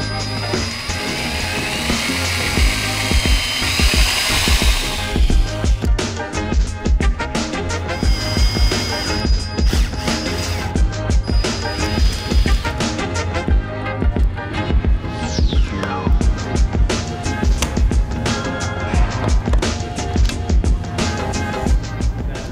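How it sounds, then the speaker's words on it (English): A pneumatic air saw cuts out bumper knockouts for Baja pod lights on a new Toyota Tundra, a loud continuous high-pitched buzzing whine that holds steady for over twenty seconds with rapid rattling vibration. "We're gonna cut this out with our air saw."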